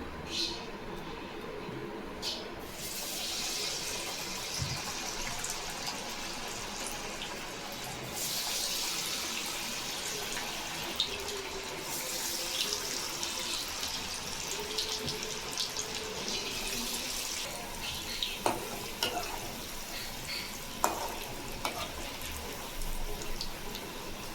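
Flattened lentil vadas (paruppu vadai) fry in hot oil, a steady, soft bubbling hiss that swells when fresh dough goes in, with occasional light clicks and taps from utensils over about twenty seconds.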